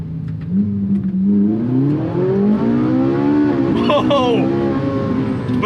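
Engine of a sports car on a track, a loud continuous roar that climbs steadily in pitch as it accelerates, with a brief shift near the end, and a voice speaking over it.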